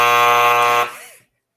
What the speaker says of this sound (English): Love that timer.